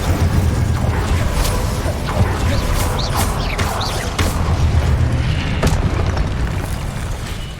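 An Incendio fire spell bursts in the Hogwarts Legacy video game: loud, continuous booming blasts with crackling, whooshing flares throughout, and no talking.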